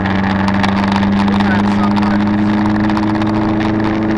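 A Subaru WRX accelerates hard with a steady, loud engine drone heard from inside the car. Pulsing turbo hiss runs over the engine note, and no voices are heard.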